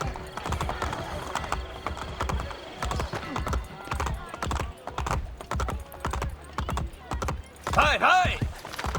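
Steady clip-clop of a horse galloping in the video game Assassin's Creed Brotherhood, rhythmic hoofbeats running throughout with game ambience underneath and a brief whinny-like sound near the end.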